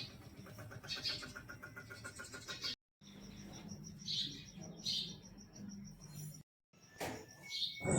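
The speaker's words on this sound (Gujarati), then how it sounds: "મોર્નિંગમાં પક્ષીઓનો કલરવ સાથે મીઠી મોર્નિંગ માણવાની મજા" Birds chirp and tweet in the morning, several short calls rising over a steady low background hum, with brief moments of silence between them.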